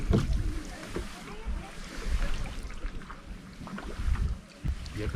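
A canoe paddled on cold Lake Moraine, with irregular splashes and drips of paddles dipping into the water over gusty wind noise, close and uneven, and voices talking faintly in the background.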